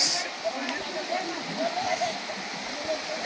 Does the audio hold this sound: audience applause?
no